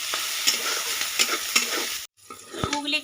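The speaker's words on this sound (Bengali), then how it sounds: "গুগলিগুলোকেও ভালো করে লাল করে ভেজে নেব।" Freshwater snails fry until browned in a wok, loud sizzling broken by repeated scraping stirs of a spatula, with a brief break partway through.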